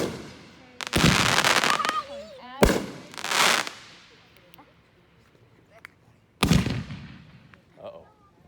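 Fourth of July fireworks boom and crackle in three big bursts spaced a few seconds apart, each decaying with crackling tails, while people chat quietly between them.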